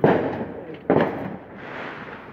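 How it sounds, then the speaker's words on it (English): Fourth of July fireworks bursting outdoors: two loud booming reports about a second apart, followed by a softer crackling rumble trailing off. "Vlog recording of fireworks, people."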